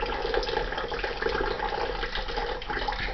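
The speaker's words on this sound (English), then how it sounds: "I'm going to turn the tap back on again." Water runs steadily from a tap with a continuous rushing splash, close and even throughout, no voices.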